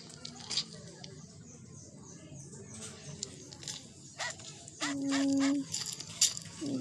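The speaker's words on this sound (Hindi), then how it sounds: "अरे अरे ये कुत्ता भी कहाँ से आ गया है?" A dog in a video game makes several short, sharp bursts against a busy background of game noise and patter, fairly close, with no speech.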